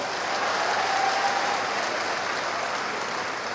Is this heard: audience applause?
yes